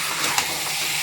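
Meat being sautéed in a pan in a Bengali home kitchen gives off a steady, close, fairly quiet hiss with a couple of faint sizzling pops.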